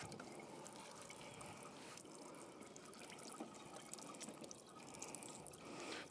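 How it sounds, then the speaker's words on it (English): Tap water running over baby back ribs in a kitchen sink, a soft continuous splash and trickle with faint drips, fairly quiet and steady. "We're just going to run it until the water runs off clear."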